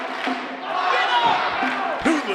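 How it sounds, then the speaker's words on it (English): A live crowd at an NWL KC professional wrestling taping roars and cheers in a sustained swell, with commentator voices talking over the noise and a few sharp shouts rising out of it. "Man, listen to this crowd."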